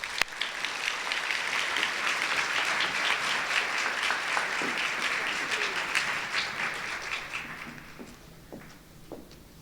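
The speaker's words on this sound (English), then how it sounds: "give a round of applause as we welcome Marion to the stage" An audience at a college foundation scholarship reception claps to welcome someone to the stage, steady dense applause that thins out near the end into a few scattered claps.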